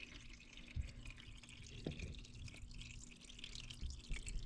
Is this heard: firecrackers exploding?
no